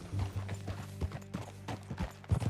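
Horse hooves clip-clop in an irregular trotting rhythm during a ride in the Red Dead Redemption 2 video game, close and fairly quiet over a low rumbling hum.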